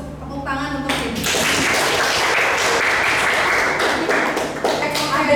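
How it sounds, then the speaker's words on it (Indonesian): Classroom applause, students clapping together after a brief bit of talk, a dense burst of hand claps that carries on steadily for about four seconds. "Tepuk tangan untuk ini."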